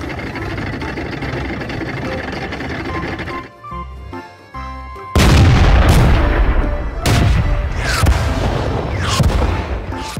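Heavy booming blasts ring out several times over a rumbling engine, with a brief quieter pause before louder, sharper cannon shots follow.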